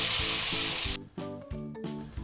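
Water boils in a pot with ghee and a few cloves, ready for cooking rice. A dense, bubbling hiss fills the first second, then cuts out, leaving quieter rhythmic tones and clicks.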